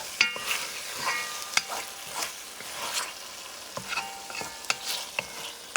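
A chickpea and summer sausage stew being stirred in a pan, with sharp spoon scrapes and clacks over a soft, continuous sizzle, close up and without talk.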